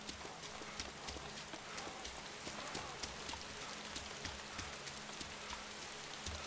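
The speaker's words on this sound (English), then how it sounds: "It's starting to rain, come on." Light rain pattering steadily in the survival game DayZ, a soft, faint hiss of scattered drops with small irregular taps spread evenly throughout and no voices over it.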